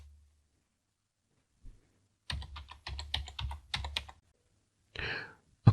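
Passphrase for a private key typed on a computer keyboard during an SSH login to a CentOS 8 server: after near silence, a fast run of close, crisp key clicks, then one firmer, louder keystroke at the end.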